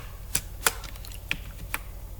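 Soft, sparse keystrokes on a computer keyboard while entering C++ code, about five separate quiet taps with pauses between them in a hushed room.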